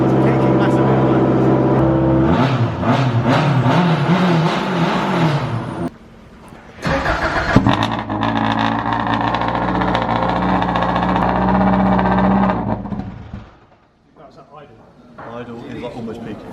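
A works Subaru Impreza WRC rally car with a straight-pipe exhaust revs hard and burbles at idle close up, loud and raspy in bursts, with people talking over and between the revs.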